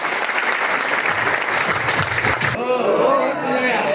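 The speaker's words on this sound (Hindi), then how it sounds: "प्लीज़ दोस्तों तालियों से उनका स्वागत कीजिए" An audience at a transport company's annual general meeting applauds to welcome a speaker, dense clapping holding steady and then thinning near the end, with a voice over it.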